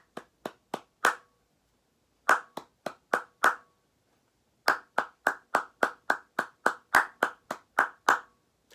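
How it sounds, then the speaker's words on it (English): Crisp hand claps in short rhythmic bursts, each clap matching a spoken syllable: a group of four, a gap, then runs of five and about a dozen, close and clear with silence between phrases. "Listen how the clapping matches up with the syllables of the words."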